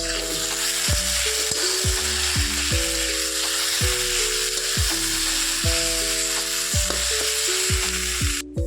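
Shredded cabbage fries in a pan, a steady close sizzle and crackle running throughout beneath a melodic background music track.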